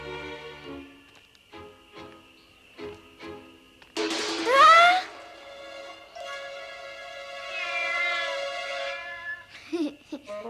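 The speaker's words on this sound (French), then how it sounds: "C'est seulement un chat." A cartoon cat from an animated Babar episode lets out a loud, sharp meow, then a longer, drawn-out yowling cry, heard close and clear over a soft tonal background.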